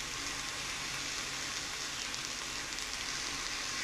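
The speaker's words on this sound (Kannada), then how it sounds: "ಈಗ ಫ್ರೈ ಆಗೋಕ್ಕೆ ಬಿಡಬೇಕು." Okra, curry leaves, garlic and tamarind fry in two tablespoons of oil, a steady, even sizzle and crackle that continues without pause, moderately loud and close, with no talking over it.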